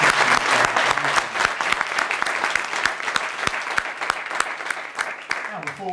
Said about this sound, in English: Please, if we could give a round of applause.